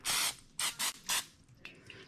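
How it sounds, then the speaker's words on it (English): A can of cooking oil gives a light spray over cured egg yolks in a kitchen, making three or four short, close hissing bursts with brief pauses between them and no talking. "I am going to do a light spray,"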